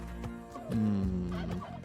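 A turkey in the video game Spelunky 2 gobbles in a short rapid warble lasting about a second, heard close over the game's background music.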